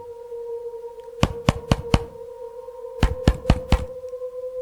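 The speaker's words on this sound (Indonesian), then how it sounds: "Lalu terdengar suara ketukan di jendela tepat di belakangku" Knocking on window glass comes as two sharp bursts of four quick raps each, separated by a pause, under a steady low hum.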